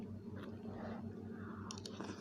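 Someone chews vegetable food close up, a quiet, steady run of soft, moist crunching and squishing with no talk.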